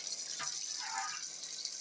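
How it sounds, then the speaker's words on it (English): Water poured out of a cooking pot in a kitchen while canning tomatoes, a brief soft splash and trickle under steady background hiss. "Now I'm going to pour the water out of this pot"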